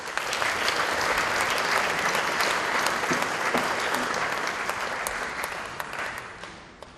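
Sustained applause from a large crowd at a Sri Lankan Independence Day event in Melbourne, steady and dense for several seconds before gradually tapering off toward the end.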